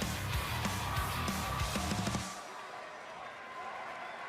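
An animated arena crowd in WWE 2K20, staged in Orlando for NXT, cheers and applauds in a steady roar that cuts off after about two seconds, leaving quieter ambience.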